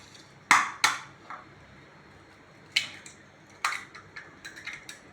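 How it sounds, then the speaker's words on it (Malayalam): Eggs cracked against a bowl rim and poured in, several sharp clicks and taps spaced apart with quieter wet sounds between, close and alone. "ആദ്യം ഞാൻ ഈ മുട്ട പൊട്ടിച്ചിട്ട് ഇങ്ങനെ ഒഴിക്കാൻ പോകണം"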